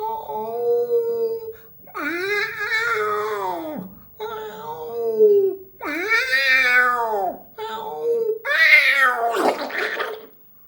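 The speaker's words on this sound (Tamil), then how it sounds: "இது பூனை." A cat wails in long, drawn-out, rising and falling cries, loud and close, with several separate howls following one another and short pauses between them.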